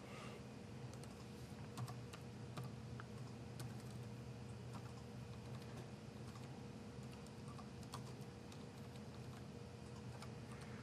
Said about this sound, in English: Just making sure I'm typing the right things.